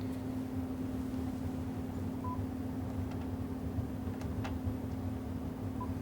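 Baseline noise floor of an ICOM 7300 radio tuned to 27 MHz, a steady, faint hiss and hum with a constant low tone and a few tiny clicks, unchanging throughout.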